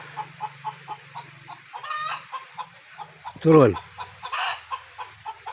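A hen in a remote village clucks after laying an egg, giving repeated rhythmic clucks with a louder squawking cackle in the middle, near and clear, while a person speaks briefly.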